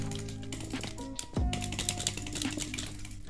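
Rapid clicks from a budget gaming keyboard patter along in quick irregular bursts, with game sounds and a sharp impact tone in the background.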